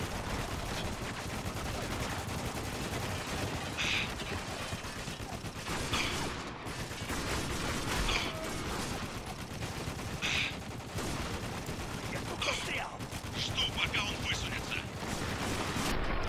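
A turret firing in the war shooter Spec Ops: The Line, on a bridge: a relentless, dense stream of rapid gunfire and clattering mechanical noise that runs without a break, with brighter bursts standing out every couple of seconds.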